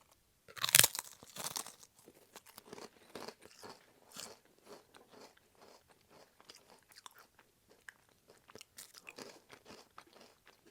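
Crisp, repeated crunching of Good & Gather stuffing flavored potato chips being chewed close up, a loud first bite followed by a steady run of smaller crackly chews with no talking.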